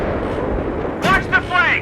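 An M1 Abrams tank cannon fires in a combat video game, a single deep booming blast followed by rumbling echo, with shouted voices over it.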